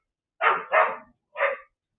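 A dog barks three times in quick succession, two close together and then a third after a short pause, loud and near with no other sound around it.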